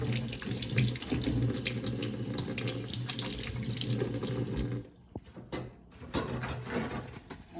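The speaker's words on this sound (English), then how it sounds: "Wash my hands" Tap water runs steadily into a kitchen sink for hand washing before seasoning chicken, a continuous hiss that cuts off near the five-second mark, followed by brief clatter and handling sounds.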